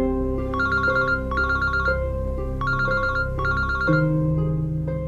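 A telephone rings with repeated electronic trilling bursts in a Pakistani TV drama, sounding several times over a steady background music bed with no talk.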